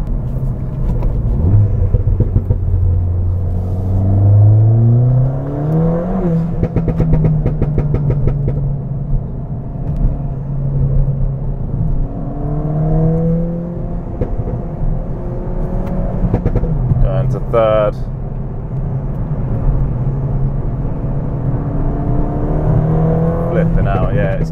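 A Stage 2 tuned Ford Fiesta ST engine rises and falls as the car accelerates and shifts while driving, sustained loud rumble from inside the cabin with repeated revving climbs.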